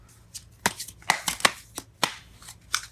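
Sharp, close tarot card snaps and riffles in an uneven rhythm, roughly a dozen crisp clicks over a few seconds, quiet and with no voices.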